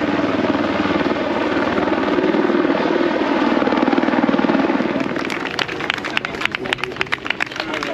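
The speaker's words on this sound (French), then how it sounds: "Et on est filmé par un hélicoptère." A helicopter drones steadily overhead with a heavy rotor thrum during the Ultra Marin ultramarathon, while runners' footsteps and a crowd murmur patter along beneath it.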